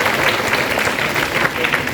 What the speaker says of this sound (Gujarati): જોરદાર તાળી વગાડીશું અને વધાવી દઈશું આપણે